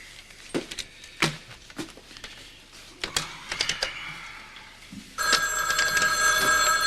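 Clicks and taps of a number being dialed on a telephone, then a steady electronic ringing tone that rings on without a break, fairly loud and close, with no one speaking.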